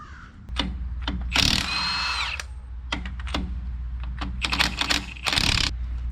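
An impact wrench with a chrome socket works on a Ford Super Duty's front leaf springs, giving several short buzzing bursts and one longer whirring run, mixed with metallic clicks and clatter close by.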